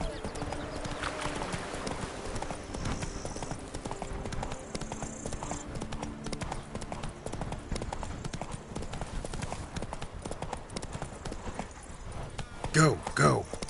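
Roach, a horse in The Witcher 3 game, gallops with steady, rapid hoofbeats throughout, while a voice talks over the pounding rhythm.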